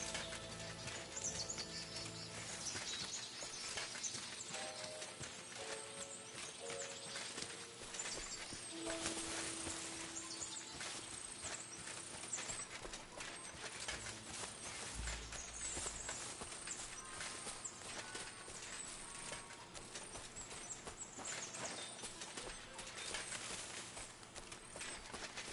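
Horse hooves clip-clopping along a wooded path in Kingdom Come Deliverance 2, a steady soft patter of steps under continuous game ambience with birds and music, moderately close throughout.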